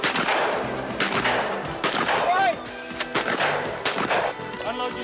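Shotguns fire in quick succession at a 1998 team shooting competition, several sharp blasts spread across the moment, some near and loud, others overlapping, with a voice speaking between them.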